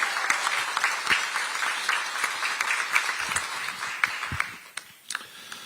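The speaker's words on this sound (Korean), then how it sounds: "우리 다 같이 승리하자는 뜻에서 우리 다 같이 박수 한번 보내고" Audience applause at a Korean political party rally for the June 3 local elections in Chungju, a dense patter of many hands clapping steadily, loud and near, thinning slightly toward the end.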